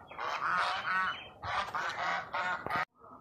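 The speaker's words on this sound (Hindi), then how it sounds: "तो ये हैं हमारी प्यारी बतखें" Ducks give several loud, nasal quacks and honks in close succession, close by, in short bursts separated by brief pauses.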